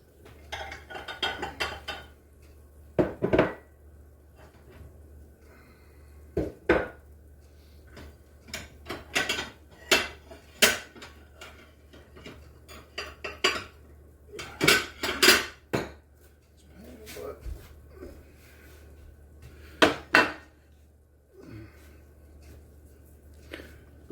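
In a home kitchen during meatloaf cooking, a plate or serving dish is fetched. Sharp intermittent clinks and clatters of crockery and utensils ring out close up, with a few dull knocks between quiet pauses and no talk.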